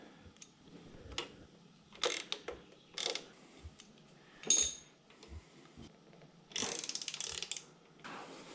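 Ratchet tightening motorcycle headlight bolts on an Indian Scout: short bursts of quick metallic clicking, close and quiet, in separate strokes with pauses, ending in a longer run of rapid clicks.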